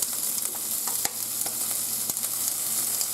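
Bacon and eggs frying together in a pan give off a continuous close sizzle, with scattered pops and crackles rising above the steady hiss. No one speaks.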